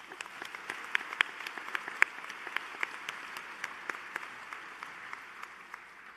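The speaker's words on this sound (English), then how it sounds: "Let's give him a round of applause as well." Audience applause at a pharmacy school hooding and diploma ceremony: a moderate, steady patter of many hands with a few sharper individual claps standing out, heard from a slight distance in a large room.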